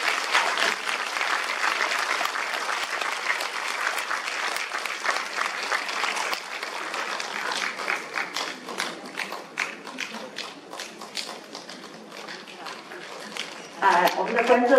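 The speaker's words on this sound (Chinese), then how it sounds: "掌声拍出拍出来他们就出来了" Audience applause at a guzheng concert in a community center assembly hall, sustained clapping from a crowd that gradually thins, with a voice speaking over it near the end.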